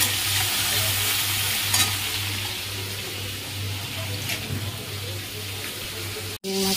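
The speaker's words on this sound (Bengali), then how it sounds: "এই চিংড়ি মাছটা ভেজে নিই" Prawns fry in hot mustard oil in a pan, giving a steady close sizzle throughout with faint scraping as they are stirred, ending in a brief clatter; no voices.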